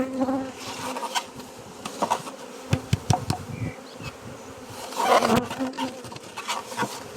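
A dense buzz of many honeybees from a swarm housed in a hive hums close by, with scattered knocks and clicks of handling against wood mixed in.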